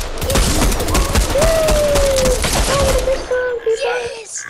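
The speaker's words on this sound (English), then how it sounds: "my SMG wasn't loaded, so I just used my pistol" Rapid pistol and automatic gunfire from a Fortnite squad match, a dense run of sharp cracks with game effects in the mix, while players shout over the shots.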